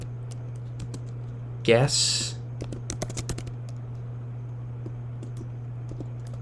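Scattered clicks of typing on a computer keyboard, sparse and fairly close, over a steady low hum, with a brief spoken word partway through.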